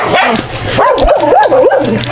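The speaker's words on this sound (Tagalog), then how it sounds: "Ang ano ng aso? Daming aso." Several dogs barking and yipping in quick, high-pitched bursts, fairly close and loud, with a steady low hum in the background.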